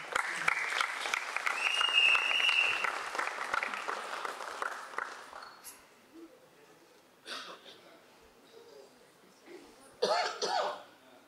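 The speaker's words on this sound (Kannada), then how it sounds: "ಸ್ಪೆಷಲ್ ಚಪ್ಪಾಳೆ ಬರಬೇಕು." Audience applause at a Kannada film critics awards ceremony, sustained clapping that fades out, followed by scattered coughs and short bursts of crowd noise, with talk mixed in.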